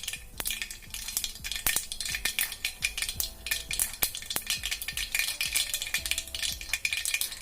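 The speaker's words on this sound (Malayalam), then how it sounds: "ഇനി ഇതിലേക്ക് നമുക്ക് കുറച്ച് കടുകിട്ട് ഒന്ന് പൊട്ടിച്ചെടുക്കാം" Mustard seeds crackle and pop in coconut oil in a kadai, a dense run of sharp, irregular snaps that carries on without a pause, close and with no talking.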